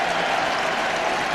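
The Kerry crowd at a 2012 Gaelic football qualifier against Tyrone gives a dense, steady wash of applause and crowd noise that sounds loud and distant, as in a large stadium, with no single voice standing out.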